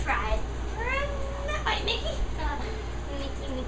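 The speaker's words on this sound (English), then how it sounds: "Rocco, the cat walked under you." A cat meowing several times, short rising and falling cries close by over a low steady hum, with a voice also faintly present.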